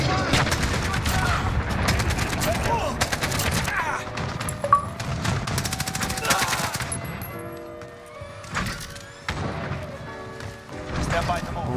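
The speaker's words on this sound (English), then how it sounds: "We're taking fire" Gunfire in Call of Duty: Modern Warfare, with rapid AK-47 bursts, fusillades and crashing impacts rattling densely and loudly throughout, alongside game sounds and voices.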